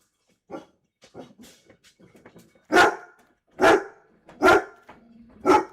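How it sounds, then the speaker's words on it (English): A dog barks four times in loud, evenly spaced bursts close by, after some softer yips and shuffling noises at the start. "Dog, shut up. Dog. Dog! Be quiet!"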